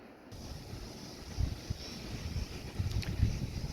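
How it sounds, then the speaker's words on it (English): Strong wind blowing outdoors on a Texas day, a steady rumbling buffet with gusty low-pitched surges against the microphone, no talk. "Very windy day here in Texas."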